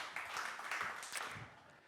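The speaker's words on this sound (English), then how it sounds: "Round of applause." Brief scattered applause from a summit audience as speakers are welcomed on stage, a short patchy burst of clapping that thins out toward the end.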